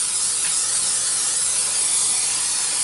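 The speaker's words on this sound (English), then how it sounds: "you want to liberally spray your pan, your Dutch oven I mean, with some Pam" Pam cooking spray is sprayed into a Dutch oven in one continuous close, loud hiss lasting nearly three seconds, with no talking.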